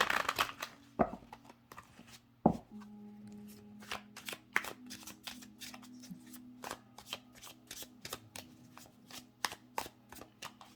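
A deck of tarot cards being shuffled close by, with quick, rapid riffling and tapping bursts in an irregular rhythm, a couple of sharper knocks near the start, and a faint steady hum in the background.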